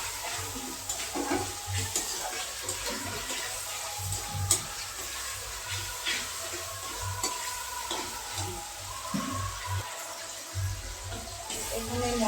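Spices with ginger paste and salt fry in a pan for a vegetarian kohlrabi and potato dum and are stirred continuously, making a steady close sizzle broken by scraping strokes, with no talking.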